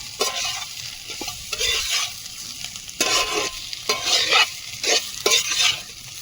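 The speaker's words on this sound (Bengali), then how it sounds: "ধনে গুঁড়ো দিয়ে আর একটু নেড়ে চেড়ে জল দিয়ে দেবো" Potatoes frying with coriander powder in a wok, stirred with a spoon in repeated scraping strokes over a continuous close sizzle, the stirring coming in uneven bursts.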